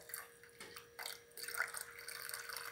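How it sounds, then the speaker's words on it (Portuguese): Water is poured onto a car radiator fan thermo switch to cool it, producing faint splashing and trickling in short bursts, then a steadier pouring flow, close by with no speech. "Vou colocar água para esfriar."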